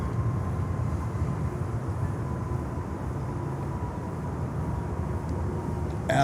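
Cargo airplane on the runway at Miami airport, a steady distant engine roar and rumble held at even loudness throughout, faint and broad, with a slight bump at the very end.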